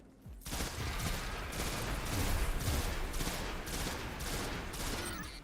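Rapid gunfire in the video game Destiny 2 aimed at a moth, a dense and continuous rattle of shots that holds steady for several seconds after a quiet start, fairly faint overall.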